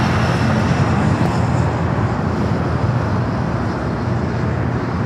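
A Gulfstream G450 business jet taking off at LAX, a loud, steady, broadband engine roar that holds constant throughout with deep low rumble, no voices.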